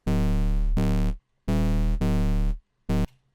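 A synth bass in Phase Plant built from a sine wave with an LFO driving its level, sounding as four thick buzzy sustained notes and a short final stab with abrupt on-off edges, loud and up front, no voices.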